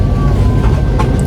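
A passenger train runs at speed, its steady low rumble continuous and close, with no voices over it.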